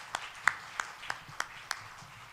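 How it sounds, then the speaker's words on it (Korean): A congregation claps at a church's New Year's Eve worship service, six crisp, evenly spaced claps in a steady rhythm over a quiet room. "박수 한번."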